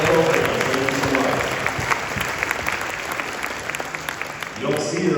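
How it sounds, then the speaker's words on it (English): A concert band audience in a school hall gives Mrs. Menard a big round of applause, full and sustained clapping that swells early and then thins slightly, with a voice briefly audible near the end. "let's give Mrs. Menard a big round of applause"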